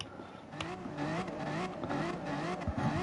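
A race car engine revving in a racing video game, a close droning whine whose pitch climbs and wavers over a few seconds, with brief tyre squeal.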